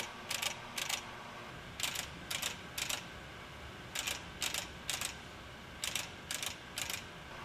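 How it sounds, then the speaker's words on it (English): A Pro Cut PFM 9.2 on-car brake lathe clicks as it adjusts for runout: quick bursts of two or three sharp mechanical clicks, repeating in groups over a faint steady hum, close and distinct. "A series of clicking sounds will be heard when the lathe adjusts for runout."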